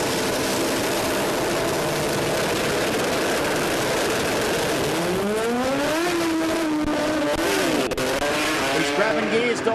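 Pro Compact drag racing car at the Garrett Sydney Jamboree roaring hard off the launch, its engine note climbing and dropping through a series of gear changes, loud and continuous under an announcer's talk.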